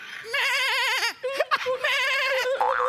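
A voice imitates a goat with two wavering, quivering bleats separated by a brief break filled with short vocal sounds.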